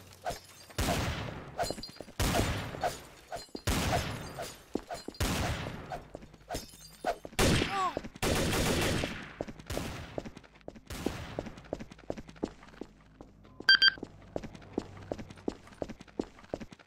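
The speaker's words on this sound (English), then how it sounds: "Who the fuck's shooting?" Gunfire in the video game Trouble in Terrorist Town rings out in repeated loud, sharp bursts and volleys, one after another, fairly close and dominant, thinning toward the end.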